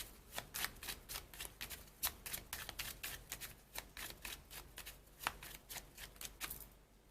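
Tarot cards are shuffled in quick repeated riffles, a rapid series of crisp snapping flicks, close and fairly quiet, with no one talking.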